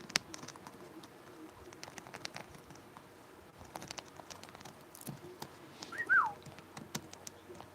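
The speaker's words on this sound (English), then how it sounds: "He is a cute bird." A pet parrot calls during a relaxed chat, giving a short bright whistling chirp around the middle of the stretch, fairly near, with light patter and soft background noise around it.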